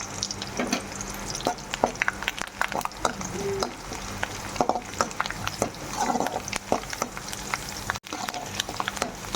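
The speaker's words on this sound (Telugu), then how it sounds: "రెండు రెబ్బల కరేపాకు వేసుకుంటున్నా" Curry leaves fry in oil with garlic pieces for capsicum rice, a crackling sizzle full of sharp spattering pops and intermittent scraping stirs, moderately close and steady.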